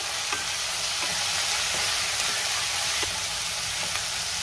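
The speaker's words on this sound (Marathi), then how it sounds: "आता हे सगळं व्यवस्थित मिक्स करून घेऊया।" Bell pepper sabzi with spices sizzles in a pan while being stirred, a steady close frying hiss with faint scraping of the spoon at irregular intervals and no talking.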